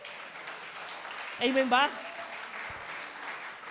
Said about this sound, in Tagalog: Tayo pumalakpak ng mga kabataan nag-aaral.